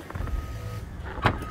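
Power liftgate on a Lincoln Aviator SUV opening after a hands-free kick under the rear bumper, a short motorized whir and latch click near the end over low idle-level background.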